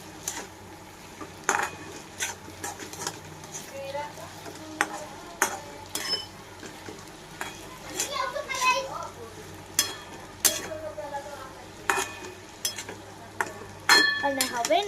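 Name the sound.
stirring sabudana khichdi in pan after adding turmeric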